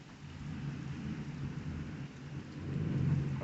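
Steady rain falling during a thunderstorm, with low rolling thunder rumbling underneath and swelling louder toward the end; no voices.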